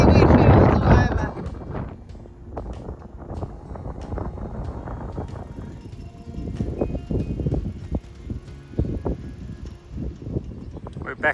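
Gusty wind buffets the microphone while a bicycle rolls through windy wheat fields in Burgundy, strongest in a loud rush at the start and then continuing as uneven rumbling gusts.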